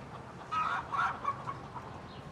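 Chickens clucking in a yard, a few short, faint calls scattered over a steady low background murmur, with no voices.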